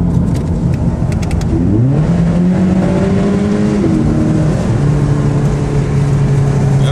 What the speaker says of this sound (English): Exhaust sounds so damn clean